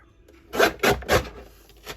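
Three quick scraping strokes of a tool scoring paper on a scoreboard for a handmade summer album, each rasping pass close and distinct, with quiet pauses between them and no talking.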